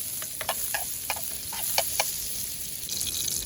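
Butter sizzles in a pan with frying prawns, a quiet, steady crackle broken by small bursts of popping and spattering, close by with no talk.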